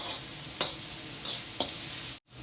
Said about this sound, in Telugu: ఇప్పుడు ఒకసారి బాగా కలుపుకుందాము